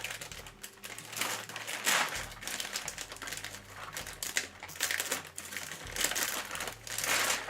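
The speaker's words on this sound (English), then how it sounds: "Okay, another bag to open." A plastic bag of parts for a 1/8 scale Pagani Huayra model kit is handled and pulled open, giving steady close crinkling and rustling throughout, with light clicks and taps among it.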